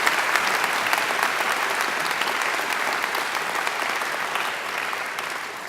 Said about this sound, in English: I think Angela deserves another great round of applause.